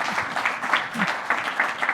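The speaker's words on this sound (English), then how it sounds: "Sure, you can clap for Jason as he walks up." A conference audience claps steadily in sustained applause as a panelist walks up, a dense patter of many hands filling the room.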